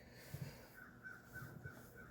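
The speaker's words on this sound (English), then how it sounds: "Baby, them crows going crazy." Crows cawing outside, a few harsh calls at a distance, faint against quiet indoor background.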